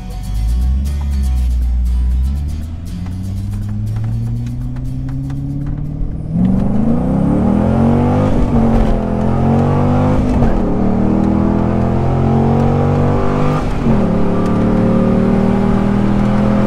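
A supercar at a charity track event accelerates hard, its engine rumbling low and then climbing through rising revs and gear changes, loud and close throughout.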